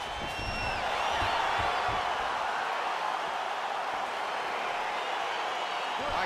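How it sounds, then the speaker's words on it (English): An arena crowd in the fighting game UFC 4 cheering as a fight starts, a broad steady roar with whoops and scattered clapping, moderately loud and sustained across the whole stretch. "crowd getting excited as this fight gets underway"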